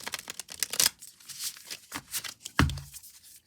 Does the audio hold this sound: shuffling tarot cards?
yes